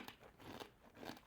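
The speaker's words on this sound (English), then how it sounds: "I cannot emphasize enough how crunchy these are." Pimento cheese potato chips crunched in three close, loud bursts of crisp crackling bites, each chew spaced roughly half a second apart with no talking.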